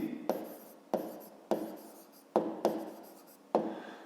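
A pen writes numbers by hand on paper during a grade 5 maths exercise, heard as six close, distinct scratchy strokes in a quiet room, each starting sharply and fading.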